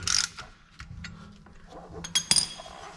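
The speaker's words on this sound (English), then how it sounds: "And then we can tighten this bottom bolt up." A 14 mm wrench tightens a bottom bolt on a Silverado crew cab truck's suspension during lowering, giving a few short metallic ratchet clicks and clinks close up, with pauses between strokes.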